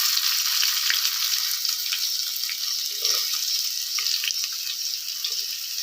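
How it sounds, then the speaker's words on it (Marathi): Onion fries with whole spices for village-style mutton biryani, a bright, hissing sizzle that holds steady and close, with a few soft stirring bumps and no speech. "कांदा आपल्याला चांगला लाल असा भाजून घ्यायचा आहे"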